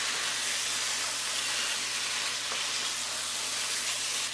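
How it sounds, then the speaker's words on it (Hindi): Mixed vegetables frying for sambar: a steady, even sizzling hiss that carries on with no talk over it. "काफी तरह से इसकी भुनाई करेंगे"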